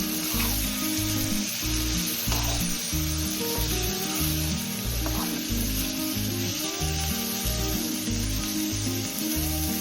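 Dried anchovies fry in oil over low heat, a continuous bright sizzling hiss that runs under loud rhythmic background music for the whole stretch.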